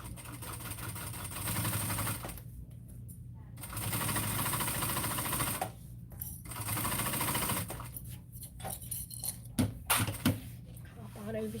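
A sewing machine runs in steady bursts while basting layers of bag fabric together, its motor whirring for a few seconds at a time between short pauses and clicks, with a voice talking over it.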